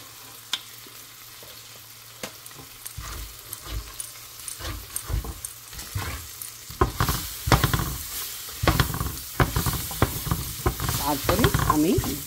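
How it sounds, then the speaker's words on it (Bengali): Flour is fried in melted butter in a pan for a chicken bun filling, starting with faint ticks and light scrapes, then building into dense sizzling and busy stirring and scraping, close and growing louder. "এর মধ্যে একটু ময়দা দিয়ে একটু ভেজে নেব, যেন ময়দার গন্ধটা চলে যায়।"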